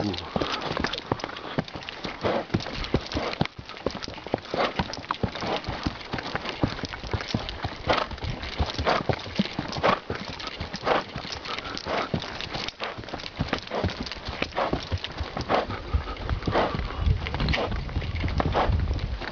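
Steady clip-clop of horse hooves walking on a hard surface, continuous and fairly close, with faint voices in the background.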